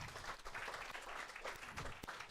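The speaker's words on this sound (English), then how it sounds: "Round of applause for Teresa." A live audience at a spirit-medium event applauds Teresa Thatcher, a faint, steady wash of many hands clapping at a distance with no talk.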